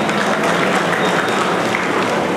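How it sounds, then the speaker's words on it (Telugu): A hall audience claps loudly in welcome for the hall president and his team at a prize ceremony for tenth-class students, the applause dense and sustained throughout at close range. "ఒకసారి గట్టిగా చప్పట్లతో స్వాగతం"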